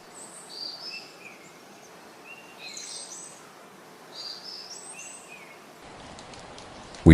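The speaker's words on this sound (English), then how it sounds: "birds called from the treetops" Birds calling from treetops in a misty, rainy mountain forest in Uttarakhand, several short, high chirps and whistles repeating at intervals, somewhat distant, over a soft, steady wash of rain.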